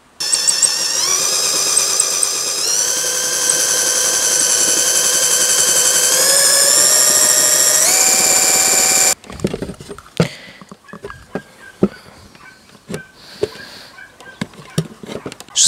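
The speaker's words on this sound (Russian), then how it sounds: "Поэтому будем высверливать вот этот вот болт. Высверливать я буду сверлом 6 мм." A power drill with a 6 mm bit bores out a bolt on a ten-year-old Homelite trimmer spool: a loud, steady motor whine climbs in pitch for about nine seconds, then cuts off into sharp metallic taps and clatter.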